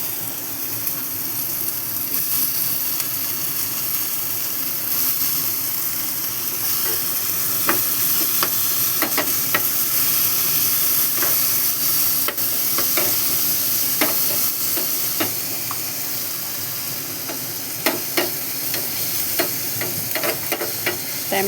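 Tomatoes fry with a constant sizzle and hiss in a pan of spiced moong curry, while a spoon scrapes and clinks against the pan in irregular strokes throughout; nobody speaks.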